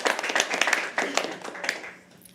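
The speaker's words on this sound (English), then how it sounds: "Can we please have an applause for her" A small audience at a live poetry open mic claps in a brief burst of applause that tapers off after a couple of seconds, fairly close.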